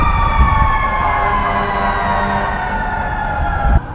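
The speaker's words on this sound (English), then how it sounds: "Oh, the police sirens are going off to mark midnight." Police sirens sound at midnight on New Year's Eve, a loud, steady, unbroken wail that holds throughout with no talking over it.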